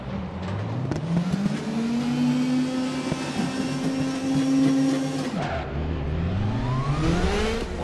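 Several race cars in RaceRoom pulling away at a race start, engines droning and revving together, one rising pitch held before dropping on a gear change then climbing again, loud and close with no talk.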